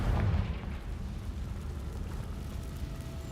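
A Confringo fire spell going off in Hogwarts Legacy, a sharp booming blast at the start followed by a rumbling, crackling decay that fades out over a few seconds.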